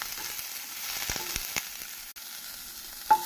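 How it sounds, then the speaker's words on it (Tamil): Chopped onion with cumin sautéing in oil for a tomato mint chutney, giving a soft, steady sizzle with a few faint stirring clicks and one brief louder scrape near the end. "நறுக்கிய ஒரு பெரிய வெங்காயத்தை சேர்க்க வேண்டும் வெங்காயம் வதங்கும் போது"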